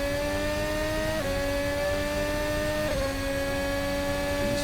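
Loud, sustained Formula Hybrid X race car engine whine in Assetto Corsa at high revs around Spa, dropping in pitch twice as it shifts gears, with no other sounds.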